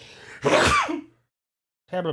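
A single loud, close sneeze bursts out alone, followed by a brief silence before a voice begins speaking.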